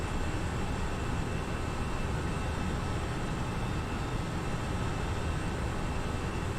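A steady jet engine roar from an FSLabs A320 in the Prepar3D flight simulator during a rolling takeoff, a loud, even rumble that holds constant throughout without any talk.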